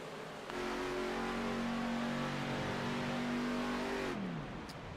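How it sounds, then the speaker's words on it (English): A race car engine at Talladega Superspeedway in iRacing holds a loud steady idle, then winds down and cuts off, leaving near silence. "You hear Garrett Kinder shutting the car off"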